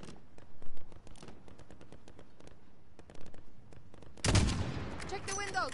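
Sniper rifle shots crack through a Modern Warfare game scene, a few sharp reports over background gunfire, ending in a louder burst.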